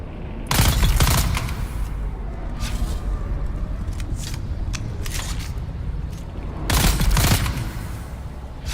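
Rifle gunfire in the video game Dune Awakening: two loud, rapid volleys near the start and end, with scattered sharper shots between them and a steady background rumble.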